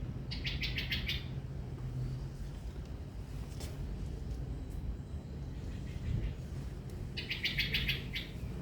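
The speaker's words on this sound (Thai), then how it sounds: "ได้ยินเสียงนกไหมคะ เพราะดีนะคะ" Birds chirp and tweet near a house surrounded by many trees, rapid bright trills in bursts at the start and end over steady low background noise.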